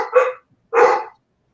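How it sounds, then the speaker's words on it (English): Two dogs barking, a short burst followed after a brief gap by a second bark, close and fairly loud with no talk. "Two dogs."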